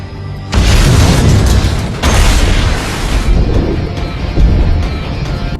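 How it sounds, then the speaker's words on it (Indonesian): A sudden, very loud bomb blast on a bridge erupts into a roaring, rumbling wall of noise, with a second burst midway and a long, heavy rumble that keeps going. "sebuah bom tiba-tiba meledak"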